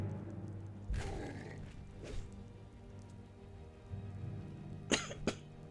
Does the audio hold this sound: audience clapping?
no